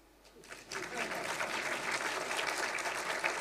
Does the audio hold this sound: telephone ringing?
no